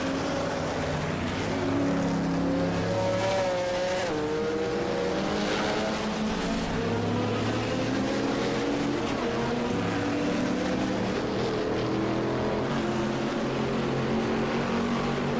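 Race car engine in a racing video game, revving high and shifting up around 7,500 rpm of a 12,000 maximum at Linas-Montlhéry, a loud sustained whine with repeated rising pitch sweeps and drops at each gear change, continuous throughout.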